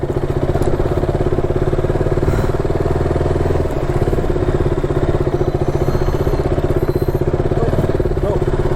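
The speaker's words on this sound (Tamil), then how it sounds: "இப்போது பைக்கை வேகமாலாம் ஓட்ட முடியாது, செம்மையாக இழுக்குது." A KTM Duke 200 motorcycle engine runs steadily while riding, a loud continuous throbbing drone with a rough, clattering edge that holds at an even level throughout.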